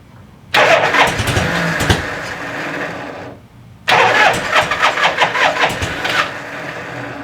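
A vintage Harley-Davidson Shovelhead motorcycle engine cranks loudly for about three seconds, pauses, then cranks again and catches into uneven, lumpy firing pulses, close up with no talk.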